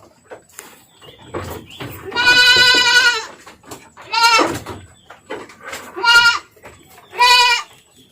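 Goats bleat while waiting for sengon (Albizia chinensis) leaf feed, loud and close, with four or five drawn-out calls in uneven succession and quieter rustling between them.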